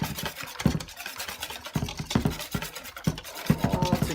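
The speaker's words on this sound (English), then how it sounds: "Keep whisking until I don't see any more lumps." A whisk beats fried chicken batter in a bowl, making a brisk, continuous scraping and clattering up close with rhythmic strokes and no speech.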